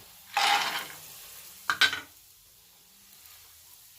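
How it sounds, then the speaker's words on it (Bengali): Peanuts are dropped into a hot pan and sizzle in a short loud burst, followed by a couple of clattering stirs against the pan, then quiet. "এবার তার মধ্যে দেব সেই বাদামগুলি"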